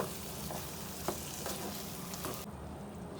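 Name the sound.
potatoes frying in a pan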